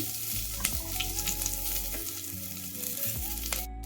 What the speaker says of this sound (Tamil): குக்கரில் எண்ணெய் விட்டு கடுகு, உளுத்தம்பருப்பு, வெந்தயம் போட்டு தாளிச்சுக்கலாம்.